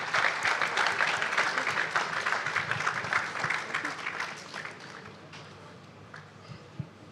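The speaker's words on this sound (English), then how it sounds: "Can you give a round of applause to the organizers?" A Data Fest audience gives the organizers a round of applause, a dense burst of many hands clapping that starts strong and gradually thins and fades, leaving a few scattered claps at the end.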